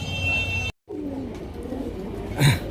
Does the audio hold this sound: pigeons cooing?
yes